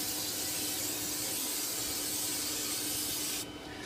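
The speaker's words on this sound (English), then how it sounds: "Now, spray a little bit of hairspray." Hairspray misted from an aerosol can onto a 3D printer bed, one continuous close hiss lasting several seconds before cutting off abruptly.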